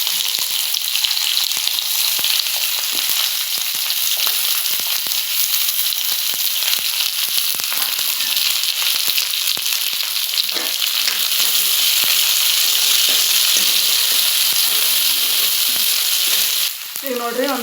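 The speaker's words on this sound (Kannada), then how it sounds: "ಮೊದಲು ಕರಿಬೇವು ಹಾಕಿ ಬದ್ನಿಕಾಯಿ ಒಂದು ಸ್ವಲ್ಪ ಫ್ರೈ ಆಗಬೇಕು" Curry leaves and eggplant fry in a hot pan, giving a steady, loud sizzle with crackling pops that runs unbroken for the whole stretch, with no voices over it.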